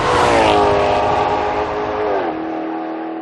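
A 2013 Maserati GranTurismo Sport engine accelerating hard, a loud close rising roar with a clear harmonic tone that sweeps upward, drops briefly at a gear change and continues.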